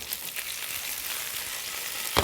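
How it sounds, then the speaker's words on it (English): Vegetables sizzle in a pan on an induction cooktop, a steady close crackling hiss with a brief louder clatter at the very end, and no talk. "you get a sizzle as you would with any type of protein, but this is all veggies"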